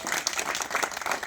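Audience applause at a rally, a steady dense patter of many hands clapping throughout, moderately loud and without speech on top.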